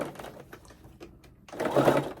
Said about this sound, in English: So go ahead and top stitch.